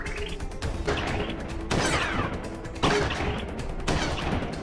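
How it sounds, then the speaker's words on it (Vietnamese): Rapid gunfire from a scoped gun in a video game, bursts of cracking shots and sharp impacts repeating roughly every second, loud and dense with no talk over them. "Bây giờ tôi đang cầm một khẩu súng nhắm vàng đây."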